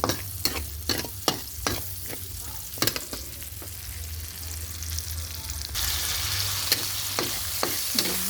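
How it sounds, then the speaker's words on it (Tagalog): Onion and garlic sauté in rendered pork fat, a constant loud sizzle under a quick series of sharp spatula scrapes and knocks at the start, easing into a steady hiss with only occasional taps. "doon natin gigisahin yung ating sibuyas at bawang"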